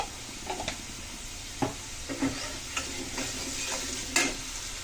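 Potatoes fry in a pan as turmeric goes in, with a soft continuous sizzle broken by several sharp scrapes and knocks of stirring.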